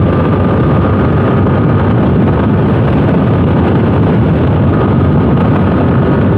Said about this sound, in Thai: ว่าเจ้า y z f r 7คันนี้เนี่ย มีอัตราเร่งและสมรรถนะของเครื่องยนต์ที่ จัดจ้านขนาดไหนนะ